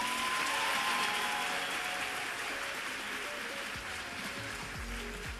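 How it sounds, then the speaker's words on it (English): A round of applause from the crowd at a youth empowerment event, broad continuous clapping that stays steady and fairly even throughout. "let's give a round of applause"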